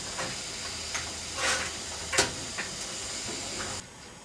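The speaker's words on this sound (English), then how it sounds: "While steam was being raised" A steady broadband hiss of steam from a Somerset & Dorset 7F steam locomotive raising steam, fairly quiet, with a few brief louder bursts, then dropping to a softer level near the end.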